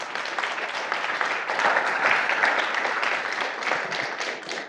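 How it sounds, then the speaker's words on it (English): An audience at a talk on a refugee's experiences applauds steadily, with dense, sustained clapping and no break. "Let's get another round of applause."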